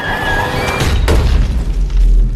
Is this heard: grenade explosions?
yes